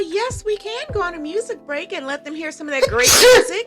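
A sneeze bursts out loudly near the end, after steady talk from nearby voices in a casual chat show recorded with friends in NYC.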